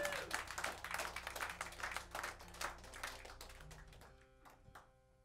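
Crowd clapping for the guitarist at a small live concert, dense and energetic at first, then thinning and fading out, leaving a sustained amplified tone ringing alone at the end.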